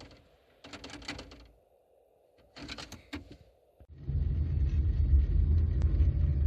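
A 1997 Daewoo Lanos 1.4 SE hatchback, first with intermittent clicks and brief mechanical noises, then the engine starts and a steady low rumble of the car settling into driving takes over, close and fairly loud.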